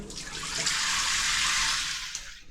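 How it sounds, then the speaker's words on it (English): Water sprays steadily from a camper's shower head in Japan, a close, continuous hiss that swells in and then cuts off near the end. "You turn this on for the shower head."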